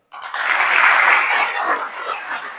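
Trainees at a Government ITI apprenticeship and certificate ceremony clap to welcome guests, the applause rising sharply, holding strong, then easing slightly toward the end.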